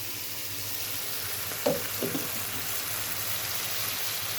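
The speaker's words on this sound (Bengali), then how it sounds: "এটার সাথে দিব চিংড়ি মাছটা আর একটু ভেজে নিই।" Prawns coated in a tomato, green chilli and coconut paste fry in a pan, giving a steady dense sizzle with a couple of brief louder spits near the middle and no talking.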